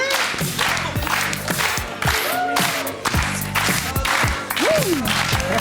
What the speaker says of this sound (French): si le public applaudit en rythme, David va danser.